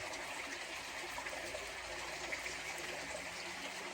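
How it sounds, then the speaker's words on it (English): Water rushes steadily through a culvert just cleared of a beaver plug, a constant broadband flowing wash with no pauses, close and moderately loud. "Got the water flowing"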